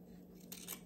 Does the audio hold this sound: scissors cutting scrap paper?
yes